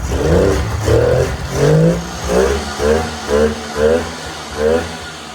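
A Polaris XLT snowmobile engine revs in about seven distinct, evenly spaced bursts, each rising and falling as the throttle is blipped, loud and close with no talking.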